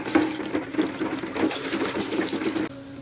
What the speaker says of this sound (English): you want to stir it up for about a minute or two before you add the next